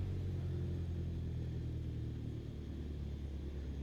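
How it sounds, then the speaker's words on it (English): A light aircraft engine idles at low throttle in Microsoft Flight Simulator 2020 on a poor-weather approach to Blackpool airport, a steady, even drone with no talking over it. "So throttle's at idle now."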